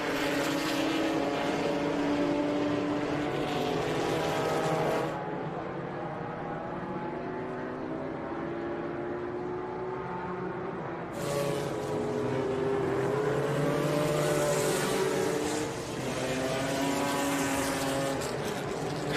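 A 1973 Datsun 260Z race car, the old yellow number 94, exits the corkscrew during Group 5 qualifying at Laguna Seca, its engine note rising through the gears, loud and close at first, then easing before surging again.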